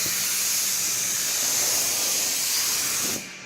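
Compressed air hissing steadily and loudly at close range as it blows dust off a 1980 Dodge D150 pickup before priming, cutting off sharply near the end.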